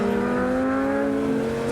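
Lamborghini Gallardo engine with exhaust valve, a steady loud droning rev with rising pitch as the throttle opens slightly, close and continuous with no talk.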